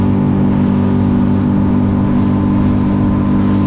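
Suzuki DF300 outboard engine on a Conch 27 boat running at wide-open throttle with the trim all the way down, a loud steady drone with strong low harmonics that holds for the whole stretch, no voices.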